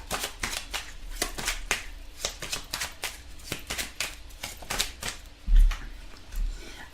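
Tarot cards riffled and slapped down in a quick run of crisp, close flicks and snaps, a couple of duller thumps near the end, with no talking over them.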